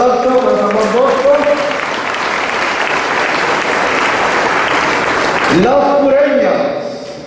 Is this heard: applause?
yes